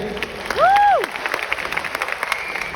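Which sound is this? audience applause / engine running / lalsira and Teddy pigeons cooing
audience applause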